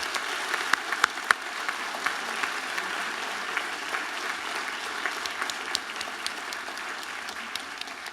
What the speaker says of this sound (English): give yourselves a round of applause for your achievements today